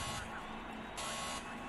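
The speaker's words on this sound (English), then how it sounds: "we hear the buzzers, and hopefully the lights will go out" Electronic start buzzers sound before the race lights in a Clio Cup sim race at Brands Hatch Indy, two steady faint tones over a low engine hum.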